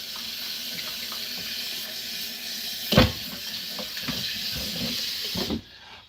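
Water runs steadily from a kitchen sink tap as a continuous close hiss, with a brief louder gush near the middle before the flow cuts off at the end.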